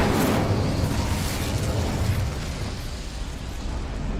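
A roaring fiery blast from the Incendio spell in the game Hogwarts Legacy, a heavy rumbling burst that starts loud and decays into a sustained crackling roar.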